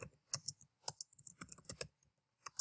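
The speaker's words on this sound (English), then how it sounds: "now it's going to let us type" Text is typed into a file on a computer keyboard, a close, quiet run of uneven key clicks in short clusters with a brief gap near the end.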